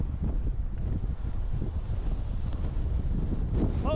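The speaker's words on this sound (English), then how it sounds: "It actually is very windy." Strong wind on a hiking trail in Norway buffets the microphone, a loud continuous low rumble with gusty swells throughout.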